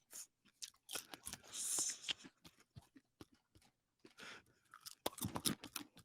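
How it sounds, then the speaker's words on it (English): Popcorn being crunched and chewed up close for ASMR, loud irregular crisp bites and munching with brief quiet gaps. "Let's get some popcorn ASMR, dude."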